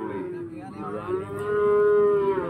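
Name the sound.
cattle mooing at livestock market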